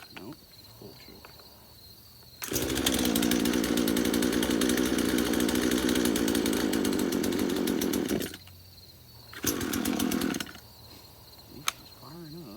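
An old Craftsman chainsaw, long left sitting in a shed, catches on full choke and runs loud and steady for several seconds, cuts out, then revs again in a short burst before dropping away.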